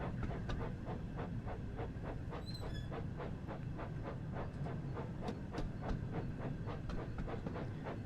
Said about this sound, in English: Now, Thomas, of course, is a magic steam engine, so you don't need to worry about coal or water.